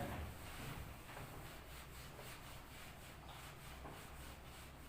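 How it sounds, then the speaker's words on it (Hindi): An eraser rubs a board clean in a faint, steady scrubbing swish that continues throughout, with no other sounds. "तो उससे पहले अपन इसको रब कर लेते हैं"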